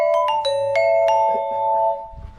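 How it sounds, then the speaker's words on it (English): A phone tone played on a glockenspiel, with a short run of clear struck metal bar notes in a quick pattern that leave a bright ringing tone slowly fading out. "Glockenspiel."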